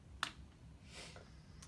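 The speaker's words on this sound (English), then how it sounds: "I don't know if we have to clap, but we did." A single sharp hand clap sounds near the start in a quiet room, with faint low background noise and another soft clap-like tap toward the end.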